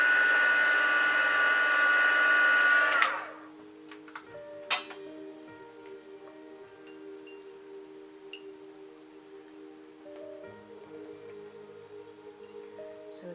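A heat tool used to heat-set paint blows with a loud, steady whirring rush for about three seconds, then cuts off, leaving faint hum, ticks and small clicks.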